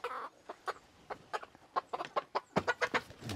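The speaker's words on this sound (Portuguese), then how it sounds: "Volta com as galinhas pro sítio, Joãozinho." Chickens clucking near a newly built coop, a quick run of short, clear clucks in an uneven rhythm that grows busier and louder toward the end.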